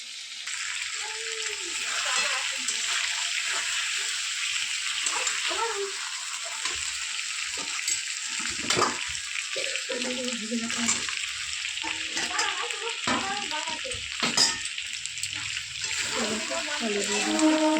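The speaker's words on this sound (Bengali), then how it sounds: "এখানে চিকেন কষানো হচ্ছে" Chicken sizzles and crackles steadily in hot oil as it is sautéed and stirred in a pan, with occasional scrapes and clinks of the spoon against the pan throughout.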